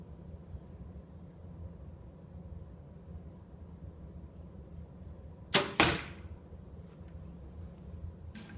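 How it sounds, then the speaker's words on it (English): A compound bow looses a single arrow indoors, giving one sharp, close snap with a quick double crack and short decay over steady faint room hiss. "We shot the other bow, just so you get a feel for how noisy or how quiet"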